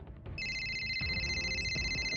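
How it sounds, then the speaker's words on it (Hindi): A mobile phone rings late at night in a family home during a Karwa Chauth gathering, a bright electronic ringtone starting just after the beginning and repeating steadily, close and clear over soft background noise. "मगर तभी इशिता के फोन पर एक कॉल आया"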